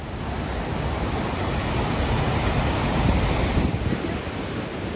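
Roaring waterfall heard from a walkway beside a large gorge of falls, a dense, loud, unbroken rush of falling water with wind buffeting the microphone, swelling slightly toward the end.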